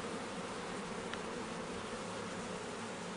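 Honeybees drone steadily in an open Langstroth hive during a hive inspection, a dense, even buzz filling the whole moment at close range with no pauses.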